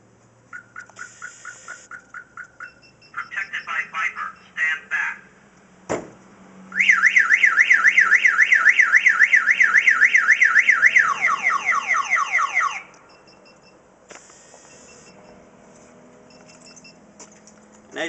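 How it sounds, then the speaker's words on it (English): A Viper car alarm fully triggered, cycling loudly through its siren patterns: rapid repeated chirps, a warbling up-and-down wail, then fast descending sweeps, close and piercing before it cuts off. "we're going to go ahead and fully trigger the alarm"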